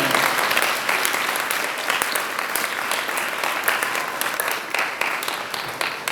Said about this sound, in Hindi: जोरदार तालियां अपने लिए दीजिए।